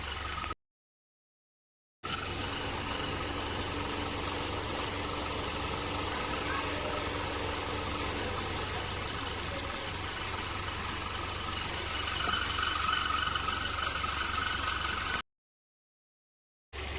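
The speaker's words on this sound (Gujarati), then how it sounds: "પહેલાં પાણી નાખી દઈએ તો આપણે મોટર બોટર શરૂ છે" An electric water pump motor runs for washing a car, a steady droning hum with a faint tonal whine, interrupted by two brief silent gaps.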